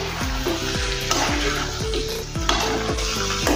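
Potatoes and eggplant sizzle and fry in a pan as a utensil stirs them with steady, rhythmic scraping strokes.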